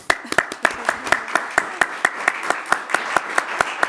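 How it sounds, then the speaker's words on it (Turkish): Studio audience applause on a TV quiz show, rhythmic sharp claps in a steady beat, fairly close and clear, with a voice briefly heard at the start. "Ceylan Hanım'a da bir alkış verelim."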